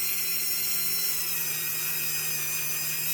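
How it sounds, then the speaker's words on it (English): A rotary tool fitted with an orange trimming wheel runs at around speed 15 against polymer clay, producing a steady, high-pitched whine that holds constant without pause. "And this orange wheel will trim with a little more pressure. So around speed 15. and a little more pressure,"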